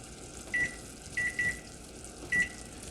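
Kitchen timer beeping in four short, clear electronic chirps, one then a close pair then one more, during the making of an Italian meringue for macarons, with a faint background hiss and no talking.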